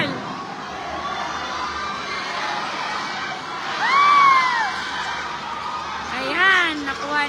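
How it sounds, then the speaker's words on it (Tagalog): Crowd noise at a tied basketball game, a steady wash of voices that swells twice into louder shouts and cheers, with a few high whistles or shrieks cutting through. "Grabe hiyawan ng mga tao nasa likod namin, guys."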